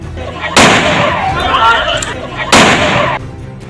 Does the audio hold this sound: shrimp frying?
no